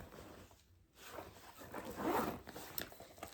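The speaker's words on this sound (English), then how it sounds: "and then a zipper pocket" A zipper on the pocket of a Proenza Schouler tote bag is pulled open or closed in a short, close rasp of about a second, with no talk over it.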